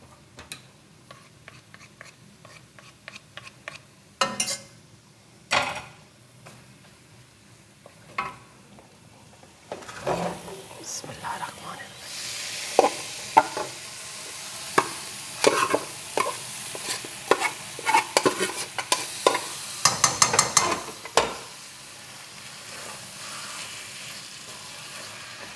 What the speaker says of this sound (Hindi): बस अब हम इसमें गाजर का हलवा मिक्स करते हैं और इसी कढ़ाई में फिर थोड़ा और भूनते हैं उसको।